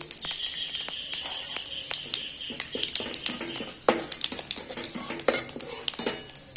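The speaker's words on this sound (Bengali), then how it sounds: "এর মধ্যে ফোড়ন দিয়ে দিলাম একটা তেজপাতা, দুটো শুকনো লঙ্কা, একটু পাঁচফোড়ন, একটু গোটা জিরে" Bay leaf, dried red chillies, panch phoron and whole cumin sputter in hot oil for a Bengali fish curry, with a metal spoon clinking and scraping against the pan throughout.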